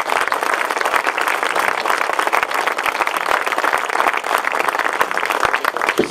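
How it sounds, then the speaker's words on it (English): Audience at a Goa workshop on the Lokayukta applauds a guest speaker, with steady, dense clapping that fills the room at an even level throughout. "I would ask all of you to give him a round of applause."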